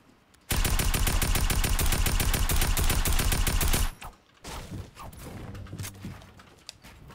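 Tactical assault rifle in a video game firing a long rapid automatic burst of evenly spaced loud shots, then stopping abruptly, followed by clattering and lighter scattered game sounds.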